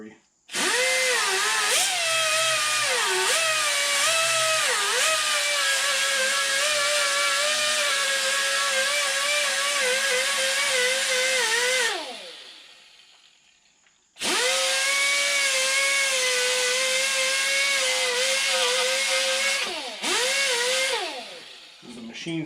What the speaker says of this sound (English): Just using a wire wheel on a die grinder real slow.